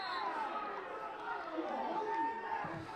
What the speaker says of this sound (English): we got the crowd yelling